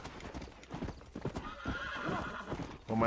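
A horse in the Red Dead Redemption video game gallops with rapid, rhythmic hoofbeats and gives a whinny, moderately close, with game sounds around it.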